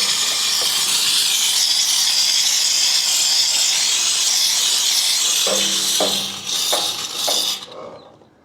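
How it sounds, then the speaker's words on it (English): A steam cleaner blasts a dirty motorcycle with a loud, steady hiss of steam that runs continuously for several seconds, then breaks into shorter bursts as the jet is pulsed near the end. "A little bit of steam right up in here."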